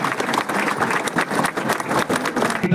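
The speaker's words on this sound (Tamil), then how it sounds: "மாணவர்கள் நம்முடைய பலத்த கைத்தட்டலை வெளிப்படுத்துமாறு அன்போடு கேட்டுக்கொள்கிறோம்." Students at a government arts college prize ceremony break into applause, a lively mix of distinct sharp claps and crowd noise that comes in uneven bursts, fairly close and loud throughout.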